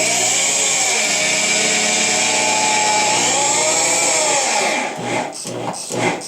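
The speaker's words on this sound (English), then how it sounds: "I wish I had 2 drills. One for the screws and one for the actual drilling." A loud, steady motor whine of a power drill driving screws into a bookcase, running continuously, then stopping into choppy bursts of rattling at the end.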